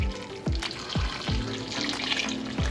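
Semi-hot water pouring into a pot of potatoes, a close gurgling splash with repeated glugging pulses in a steady rhythm and a bright watery hiss, with no talk.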